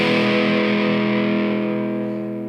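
A TE-style electric guitar from a kit build, played through its neck pickup with heavy distortion, sustains a single loud chord that slowly fades over a couple of seconds, with nothing else heard.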